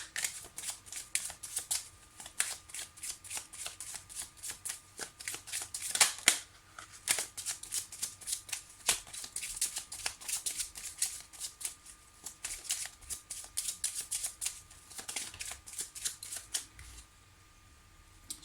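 Petit Lenormand oracle cards are shuffled by hand close up, making a steady run of crisp riffling and flapping that lasts the whole stretch, with one louder slap partway through and a quiet tail at the end.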